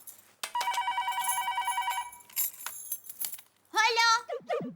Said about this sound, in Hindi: सुबह सुबह किसका फोन आया है?